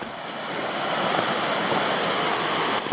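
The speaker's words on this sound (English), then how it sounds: "That is Kalamata Falls" Kalamata Falls, a small three-metre water slide on a Queensland creek hiking circuit, gives a steady, dense rushing of falling water, close and constant with no pauses or voices.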